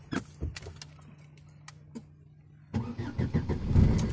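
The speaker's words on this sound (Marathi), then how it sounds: "चला तर लावू आपली गाडी मूळ जागेवर" A car near home on a rainy day: keys jangle and clink for a few seconds, then the engine cranks and catches with a sudden louder rumble that keeps running close by.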